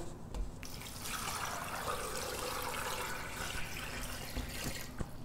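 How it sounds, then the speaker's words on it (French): Water runs steadily into a metal pressure cooker holding goat meat for several seconds, a continuous close splashing pour with a soft knock at the start and end. "Comme c'est l'autocuiseur, il ne faut pas dépasser la limite permise. Donc, je mets un peu d'eau."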